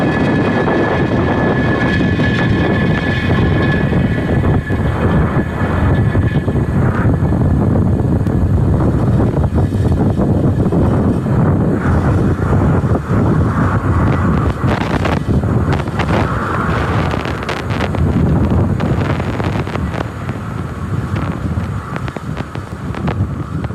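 A SpaceX Falcon 9 rocket lifts off from SLC-4E at Vandenberg, and its engines make a loud, continuous broadband roar with rumble and crackle that stays steady throughout, with no talk.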